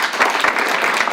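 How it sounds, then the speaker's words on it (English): Audience applause at a conference break, steady dense clapping throughout, fairly loud and close, with no talking over it. "Give a round of applause now for Juan."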